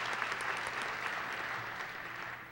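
Applause from an audience at a student certificate ceremony, a faint, distant, steady patter of many hands clapping that carries on evenly and tapers slightly at the end.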